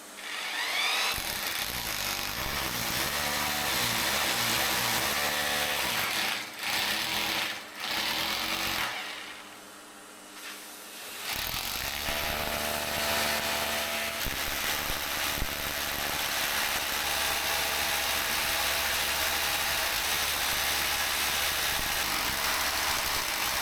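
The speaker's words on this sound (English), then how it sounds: "Final hole drilled." A power drill bores a hole during assembly of an IKEA Platsa storage unit, a steady loud whirring grind that dips and pauses briefly midway, then resumes and runs continuously to the end.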